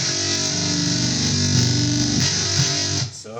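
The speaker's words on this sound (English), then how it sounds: "we've gone from something that was fairly limp to a full-on powerful distortion" Heavily distorted bass guitar through a Boss ME-8B bass multi-effects pedal, droning thick and buzzy, loud and sustained with a few shifting notes before it cuts off.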